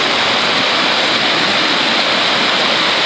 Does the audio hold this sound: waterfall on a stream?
yes